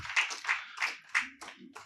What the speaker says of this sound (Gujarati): આપણે સન્માનપૂર્વક ખૂબ તાળીથી એમનું અભિવાદન કરીશું.